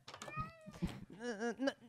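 A cat in the Minecraft video game meows several times in quick succession, its clear, pitched cries rising and falling at close range, with a few light knocks underneath.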